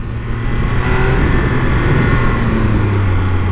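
A Triumph Speed Triple 1200 RR motorcycle rides on a road, its engine a steady close droning tone with slight pitch shifts as it pulls along, alone without talk.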